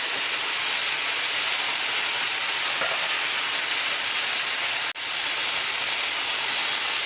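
Chicken cooking in a pan over medium-high heat gives off a steady, dense hiss of sizzling that barely changes, with one brief drop in level about two-thirds of the way through.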